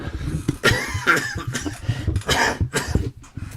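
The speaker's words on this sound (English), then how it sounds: "I got a cough." A person coughs several times in quick succession, close and loud, with short pauses and a breathy catch between bursts.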